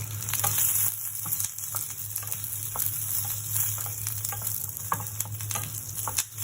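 Dry coconut roasting in a pan, a steady close sizzle and crackle with occasional stirring scrapes, no voices.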